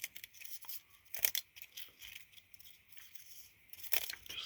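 Excess material is snipped and torn away while building a chemical tote as scatter terrain for tabletop games, making faint, close, irregular cutting and crinkling sounds.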